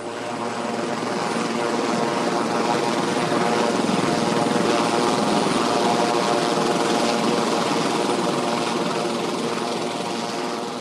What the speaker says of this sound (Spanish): pues ya vinieron con los helicópteros